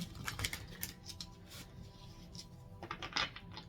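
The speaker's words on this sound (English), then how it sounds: "That was the second shuffle." Tarot cards being shuffled by hand, close and quiet: a few quick riffling bursts at the start and again near the end, with soft handling sounds between them.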